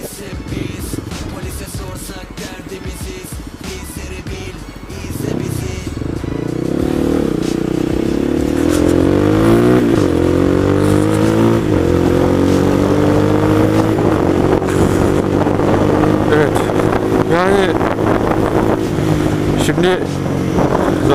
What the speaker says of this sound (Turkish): Motor çevirişte bırakacağım ya.